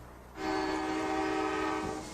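A freight train horn blares in one sustained, steady tone for under two seconds in Bedford, Ohio, fairly loud and a little distant, with faint rail rumble underneath.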